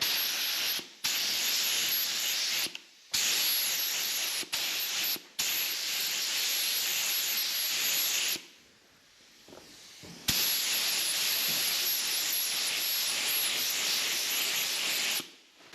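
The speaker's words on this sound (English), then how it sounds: "Got to love a bit of painting footage, haven't you?" Spray painting parts of an ERF truck under restoration: a steady, loud airy hiss that runs in long bursts with short pauses between passes, continuing alone without talk.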